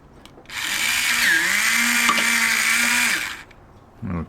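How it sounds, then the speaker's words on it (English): A small electric drill bores a pilot hole into wood for a model ship, a steady whining motor drone lasting about three seconds with a slight pitch dip, then cutting off, followed by a brief knock. "Now this little drill is great, but it doesn't have a lot of torque."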